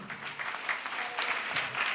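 Audience clapping for a child being honoured at a school award ceremony for bright students, a steady patter of many hands that continues evenly for about two seconds with no voices over it.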